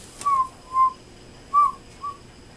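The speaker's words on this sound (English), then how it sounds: "That's a good whistle." A child whistles four short, clear notes, each a brief pure tone separated by small pauses, close and alone in a quiet room.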